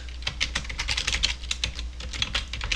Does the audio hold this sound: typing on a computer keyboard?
yes